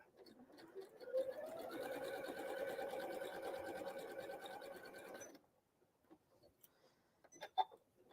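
A sewing machine runs a steady, even whir for about four seconds while stitching a quilt block seam, then stops, followed by faint clicks and handling sounds.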